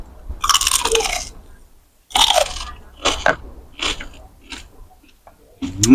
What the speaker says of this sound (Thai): ได้ยินเสียงกรอบ